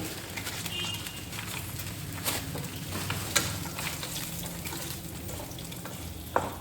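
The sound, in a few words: frying lentil dumplings (bori) in oil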